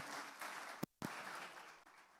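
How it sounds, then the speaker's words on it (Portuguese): A church congregation applauds, a soft, distant wash of clapping that breaks off for a moment with a short clatter and then resumes. "vamos aplaudir ao Senhor pela vida do nosso querido irmão."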